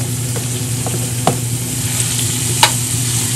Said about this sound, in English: gonna get some bacon going first off